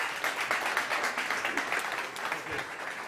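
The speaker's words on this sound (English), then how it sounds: "Big applause!" A startup competition audience at South Summit 2018 applauds to welcome a presenter, a brief, moderately loud burst of many hands clapping together, steady for about three seconds.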